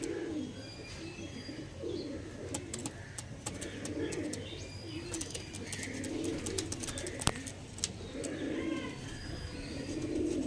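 Pigeons coo in repeated soft, throaty phrases at close range, the rolling calls recurring every second or two over a low background hum, with sharp clicks and chirps scattered through.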